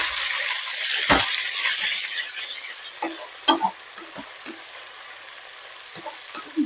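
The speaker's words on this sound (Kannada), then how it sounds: "ಮಿಕ್ಸ್ ಮಾಡ್ಕೊಳ್ಳೋಣ ಬದನೆಕಾಯಿ." Brinjal (eggplant) tossed with spice powder in a pan over high flame, a loud sizzle that fades after a few seconds, leaving quieter scattered scrapes and taps of stirring.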